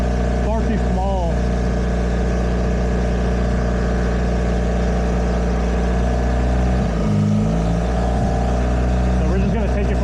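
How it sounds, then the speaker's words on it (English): A Mitsubishi DSM car engine with a wastegate setup runs steadily, then stumbles and dies out once a vacuum line is moved to the valve cover, the drone cutting away near the end under close talk. "as you can see, the car stalled"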